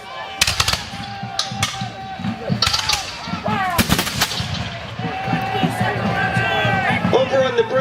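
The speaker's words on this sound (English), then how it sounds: "of American musketry can really be heard now" Volleys of musket fire crack out at a Battle of Bunker Hill reenactment, with several sharp, loud reports and a ragged spread of more distant shots over a constant crowd murmur and outdoor noise.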